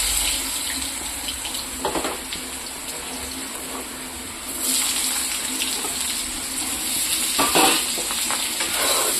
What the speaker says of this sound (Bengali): গরম হয়ে গেছে তেলটা, আমি আলুটা ছেড়ে দেবো।